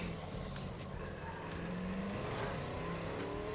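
Continuous engine drone of a car driving in the video game State of Decay, steady and moderately loud, with slight shifts in pitch as it moves along.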